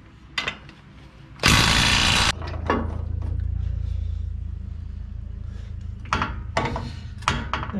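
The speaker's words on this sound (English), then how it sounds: "Now we'll undo the lower shock bolt." On a vehicle's front suspension, a ratchet works loose the 21 mm lower shock bolt: a loud burst of rapid clicking, then lower mechanical rumble and a few sharp knocks nearby.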